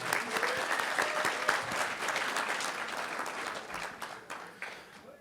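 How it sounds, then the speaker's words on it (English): An audience at a high school football awards ceremony claps for the Lake Erie Touchdown Club, a sustained round of dense applause from a sizable crowd that gradually thins out toward the end. "let's clap it up for the Lake Erie Touchdown Club"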